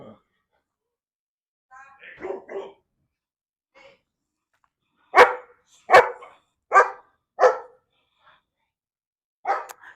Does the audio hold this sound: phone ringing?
no